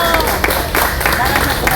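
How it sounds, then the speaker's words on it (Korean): A crowd applauds at an outdoor rally protesting election fraud in front of the Supreme Court, with steady, dense clapping and crowd noise filling the whole stretch at a loud, even level. "다시 한번 박수 부탁드립니다."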